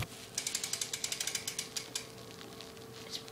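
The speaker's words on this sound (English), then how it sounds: "my Haro cranks are not good though. Like, listen to this." Worn Haro cranks on a BMX bike tick and rattle as they turn, a fast regular series of faint, close clicks that slows and fades out.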